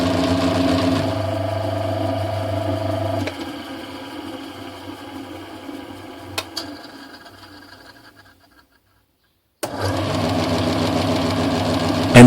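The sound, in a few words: bevel gears running under power, noisy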